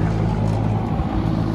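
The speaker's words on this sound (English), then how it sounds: "our fan motor is running because it has been bypassed" Fan motor of a Lennox packaged rooftop unit running in bypass, a steady loud low hum and whoosh with no breaks, close by.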